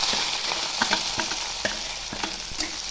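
Fenugreek leaves, green chilli and chopped onion fry in hot oil with mustard seeds, cumin, curry leaves and dried red chilli, a continuous close sizzle broken by scattered crackles and spatula stirs.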